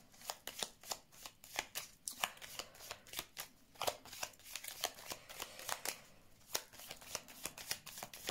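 Tarot cards being shuffled and laid out, a rapid series of crisp, close riffling and slapping flicks in uneven bursts, soft and alone.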